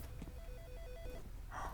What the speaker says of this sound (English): Guys, we've got a phone call.